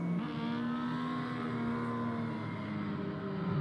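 A BMW 235i race car heads out for qualifying at Brands Hatch, its engine droning steadily and shifting pitch as it accelerates through the gears, loud and close throughout.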